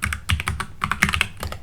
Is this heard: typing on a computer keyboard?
yes